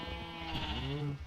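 Sheep bleat in Minecraft near a breeding pen, with a couple of short wavering bleats close by over a quiet background.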